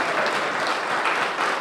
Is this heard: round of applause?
yes